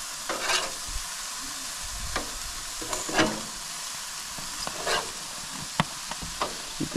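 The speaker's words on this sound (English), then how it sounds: "The burgers are frying up a little bit." Steady sizzling of burgers frying on a hot grill, punctuated by scattered scrapes and taps of a utensil, with no talking.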